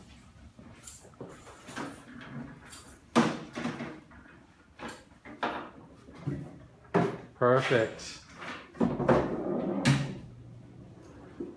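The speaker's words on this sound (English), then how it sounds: "You want to go ahead and pull apart one of the chairs?" A dorm-room chair in a university residence hall is pulled apart into a rocking chair and a stool, giving a series of close wooden knocks, scrapes and clunks, with people talking between them.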